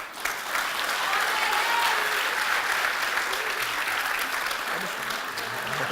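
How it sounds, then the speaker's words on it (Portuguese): A church congregation gives a round of applause for a woman during a sermon. A thick, continuous wash of clapping holds steady for several seconds, with faint crowd murmur mixed in. "Salva de palmas para ela."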